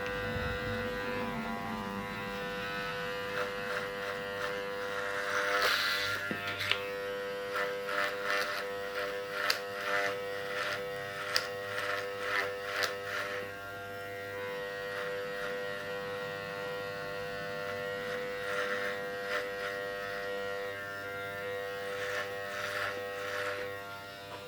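An inexpensive electric hair clipper buzzes steadily while cutting and fading hair, a constant mains-pitched hum broken by repeated brief crackles and snips as the blades pass through hair.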